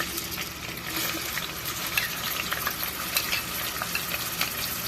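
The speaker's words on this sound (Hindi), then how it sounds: "सबसे पहले हम जो ये हमारा रेगुलर प्याज है वो शामिल करेंगे।" Onions sizzling in cooking oil in a pot, a continuous crackling hiss with some stirring, steady and fairly close, no talking.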